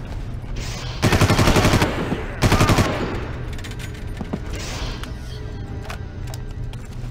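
Automatic gunfire from a weapon in the video game Far Cry 1: two loud, rapid bursts of shots close together, each lasting under a second, followed by quieter game ambience and scattered faint noises.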